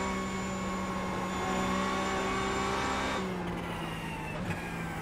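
Porsche 911 GT3 Cup engine in the iRacing game at Daytona, a sustained high-pitched flat-six whine that holds steady, then dips with a brief gear change and carries on, with no talking.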